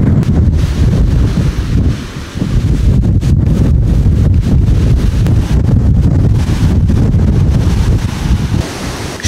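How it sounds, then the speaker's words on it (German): Strong, steady wind from a dry squall line over open farm fields near Eindhoven during a hailstorm, roaring loudly and buffeting the microphone throughout, with deep rumbling gusts and no voices. "die Windgeräusche und wie Staub von den umliegenden Feldern aufgewirbelt wurde"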